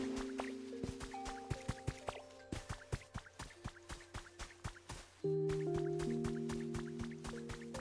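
Game water sounds in Pokémon Pokopia: a run of soft, rhythmic drips and plops, later joined by a steadier liquid trickle, set against chiming musical tones and layered game effects.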